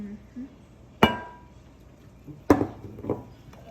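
Cocoa powder and unsalted butter being mixed in a bowl: a few sharp clinks and knocks of a utensil against the bowl, spaced apart, over quiet soft scraping.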